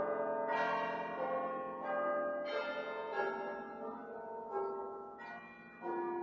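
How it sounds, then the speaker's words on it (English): A church bell tolls repeatedly at a slow, even pace, each ringing strike decaying into the next, clear and moderately loud with no talking. "Bell tolls."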